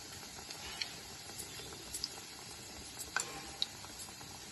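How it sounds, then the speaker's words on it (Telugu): Breadcrumb-coated prawns fry in hot oil, giving a faint, steady bubbling hiss broken by small scattered pops and crackles. "నూనె కాగబెట్టి నూనెలో వేసుకుందాం"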